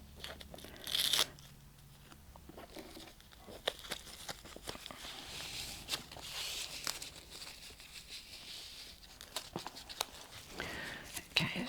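Packing tape ripped off a Coach leather bag parcel: a sharp loud tear at the start, then repeated crinkling, scratching and pulling noises, close up, with a person talking over much of it.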